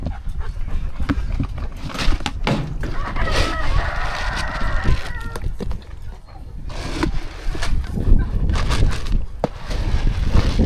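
Several roosters on a farm crow in long calls, one clearly near, over louder clucking, scuffling and panting among farmyard poultry, with the noise rising and falling throughout.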